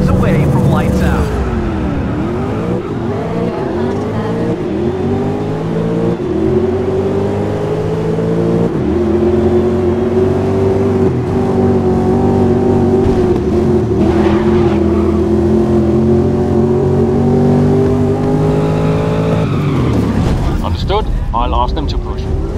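Race cars on the starting grid at Brands Hatch rev their engines loudly, with sustained rising and falling engine tones from nearby and a commentator talking over them.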